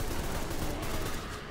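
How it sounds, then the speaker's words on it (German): Rapid automatic rifle fire in Deadfall Adventures, a loud, dense stream of shots filling the whole moment without pause, close and alone with no talking. "Oh, Schnellfeuergewehr, immer geil."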